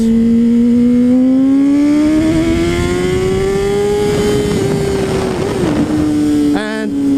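A 2010 Honda CBR 600RR sport motorcycle being ridden, its engine droning loud and close with a steadily rising pitch as it accelerates, then a quick shift near the end.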